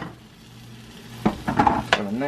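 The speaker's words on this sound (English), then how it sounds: "What is that sizzling?" Cheese sizzles and crackles in a hot pan, with a few sharp clinks and scrapes of a utensil near the end.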